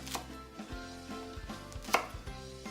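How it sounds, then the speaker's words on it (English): Knife chopping vegetables on a board, a steady run of quick thuds with a few sharper knocks, close up and with no talking. "don't get caught up on the chopping. Just a rough chop"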